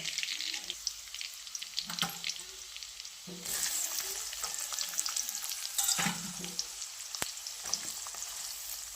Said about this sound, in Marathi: आणि आता टाकायचा कांदा